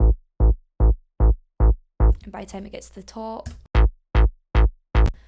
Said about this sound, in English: I've then got a stab here, and this is just for part of the build